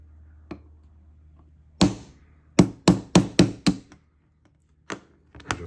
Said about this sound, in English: When you're putting the pin back in, make sure you use a punch, because it's very easy to miss with your hammer.